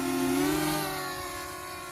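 A steady, high mechanical whine drones on with a slight pitch shift, like small rotors spinning nearby, from a flying T2 GPS drone.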